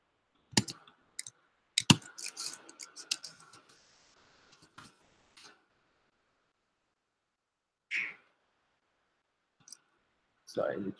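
Computer keyboard keys click in scattered bursts during a Python programming lecture, sharp and close, clustered in the first few seconds with sparse taps later and a few short sounds near the end.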